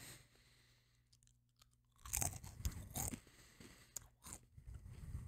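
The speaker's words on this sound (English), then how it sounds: "Good crunch on these." Buffalo chicken dip flavored chips being bitten and chewed up close, a quiet pause and then loud, crisp crunches in irregular bursts, with no talk over them.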